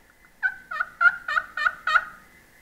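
Hunting call imitating a wild turkey hen, six clear, evenly spaced yelps rising in a short series, close and loud against a quiet background.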